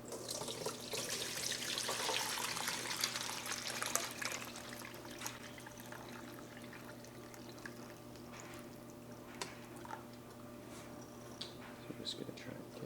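Homemade chicken stock poured through two sieves into a pot makes a steady liquid rush that is fuller at first, then settles into a softer continuous trickle with small splashes.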